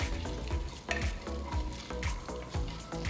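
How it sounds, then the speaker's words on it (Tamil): Mustard seeds, chana dal, urad dal and cumin fry in hot oil in a pan while being stirred, a close crackling sizzle with rhythmic scraping strokes roughly every half second. "1 டீஸ்பூன் கடலைப்பருப்பு, 1 டீஸ்பூன் உளுத்தம்பருப்பு, 1 டீஸ்பூன் கடுகு, 1 டீஸ்பூன் சீரகம் சேர்த்து லைட்டாக மிக்ஸ் பண்ணுங்க"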